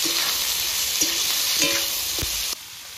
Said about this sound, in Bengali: পেঁয়াজ লঙ্কা কুচিগুলো সব একসাথে ভেজে নেব।